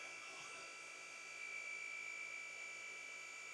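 A rotary polisher runs on car paint, a steady, even high-pitched whine held at constant speed, fairly faint and with no talk over it.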